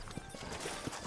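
Horse hooves clip-clop faintly in a Red Dead Redemption game scene, a few soft, uneven thuds over a low background.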